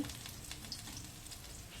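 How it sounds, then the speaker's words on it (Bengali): Bitter gourd fries in a pan while being stirred, giving a continuous crackling sizzle broken by light scraping strokes, close and fairly quiet. "উচ্ছেগুলো দিয়ে কিছুক্ষণ নেড়ে নেব"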